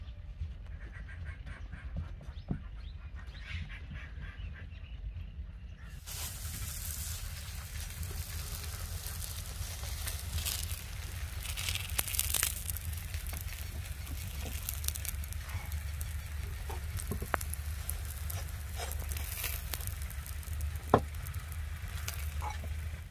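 Mooli paratha cooking on a hot griddle over a strong open fire in a village kitchen, a steady low sizzle and fire roar with scattered crackles and a few sharp clicks, no talking.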